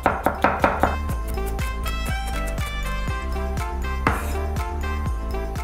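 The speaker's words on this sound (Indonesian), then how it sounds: "ini ada penambahan 5 siung bawang putih. Kita cincang lagi ya" Knife chopping garlic cloves on a cutting board, a quick run of crisp, close knocks at first, then steady, slightly softer rhythmic chops continuing throughout.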